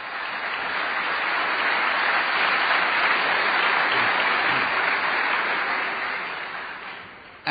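A debate audience claps steadily for several seconds, a dense wash of applause that swells and then tapers off near the end.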